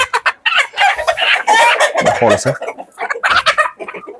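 Andijan black chickens and roosters cluck loudly and busily close by, with a rooster's crow rising among the flock's calls while someone briefly speaks over them.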